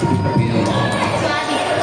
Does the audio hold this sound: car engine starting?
no